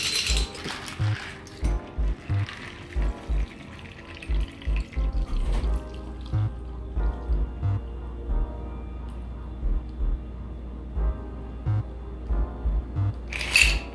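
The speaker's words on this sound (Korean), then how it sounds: "이 물은 따라줍니다." Water is drained off cut melon while Midori melon cocktails are made, a close trickling pour broken by a regular run of soft knocks and clinks of the container.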